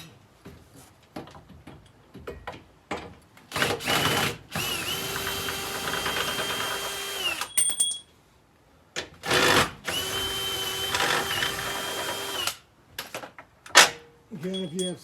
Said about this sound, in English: I grab my handy dandy DeWalt.